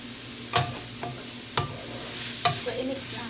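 Soup noodles being stirred in a cooking pot, a few distinct utensil clinks and scrapes spaced about a second apart over a low steady sizzle, close and fairly quiet.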